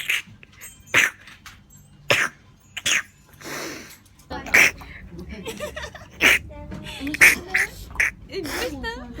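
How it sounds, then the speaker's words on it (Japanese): Several sharp, sudden sneezes burst out at uneven intervals, loud and close, mixed with snuffling and wheezy, whimper-like sounds, while people talk softly nearby. "くしゃみ。"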